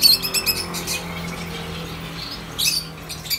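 Small birds chirp in a bird shop, with bursts of high tweeting at the start and again near the end over quiet background noise.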